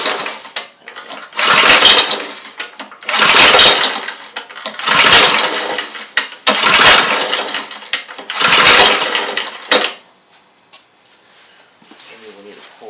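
A 5 HP Briggs and Stratton small engine with a replacement carburetor runs loud and close in repeated rough surges for about ten seconds, then dies away to near quiet.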